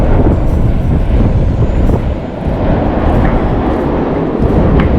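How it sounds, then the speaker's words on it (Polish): Steady, heavy low rumble of strong wind buffeting the microphone by a mine adit in Mysłowice, Poland, continuous throughout with a brief dip midway. "Oj, silny wiatr."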